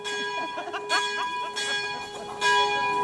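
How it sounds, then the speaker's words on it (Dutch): Church bell tolling up close, several ringing strikes whose long metallic tones overlap and decay, loud and alone with no talking. "Het is wel leuk zo'n kerkklok, maar het is een kabaal, hè?"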